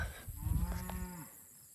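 A cow in a cattle herd on Green Pasture Farm lets out a single long, low moo, fairly near, over faint outdoor ambience and low rumbling, with no talk.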